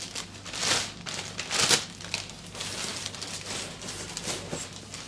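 Double-bagged plastic specimen bags from a subantarctic collection crinkle and rustle steadily as they are handled and opened, with louder crumpling bursts over a continuous papery noise.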